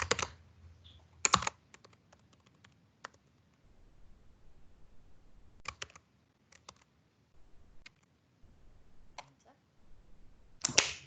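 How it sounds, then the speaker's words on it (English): Computer keyboard typing, scattered soft clicks and sharper keystrokes close by in a quiet room, with long pauses between bursts. "So I'm going to just type it again"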